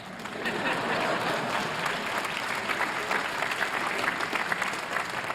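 A crowd at a Harvard commencement ceremony breaks into sustained applause, a dense wash of clapping that holds steady and fairly loud from start to finish.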